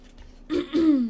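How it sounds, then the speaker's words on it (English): Someone clears their throat up close, a short rough rasp followed by a second, longer guttural clearing. "Sorry, clearing my throat."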